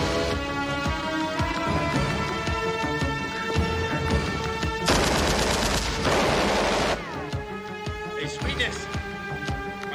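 Gunfire from an action movie about terrorists seizing a high-rise hospital: loud, dense bursts of shots over a driving music score, with the heaviest volley lasting about two seconds near the middle.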